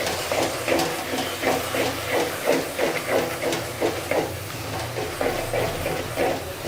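Chili paste gravy with green chilies frying in a pan for an egg and green gram curry: a steady sizzling hiss with rhythmic bubbling and spattering pulses, close and continuous.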